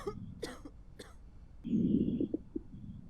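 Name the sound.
coughing patient in zombie quarantine video game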